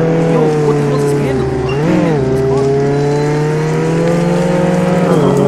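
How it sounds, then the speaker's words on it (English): Loud, steady car engine from Roblox Jailbreak droning with strong harmonics, pitch dipping and rising briefly as it revs, continuous throughout and close. "This engine is loud."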